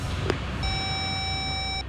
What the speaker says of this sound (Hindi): सर फोन काट दिया उसने।